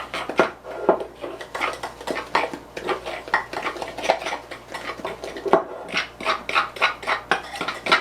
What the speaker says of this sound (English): stir it really well together, or whisk it till you feel it's nice and fluffy